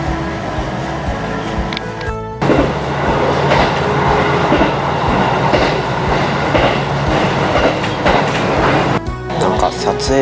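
Steady rumble and rattle of a JR electric commuter train on the Kusatsu Line in Japan, with low motor hum and track noise throughout; a brief dip partway, then the loud ride continues.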